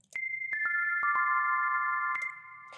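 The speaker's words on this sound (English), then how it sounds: "I'm going to use this melody here, which sounds like this." A short synthesized melody of bright, bell-like tones, several notes plucked in sequence and overlapping, ringing on before fading, with no voices.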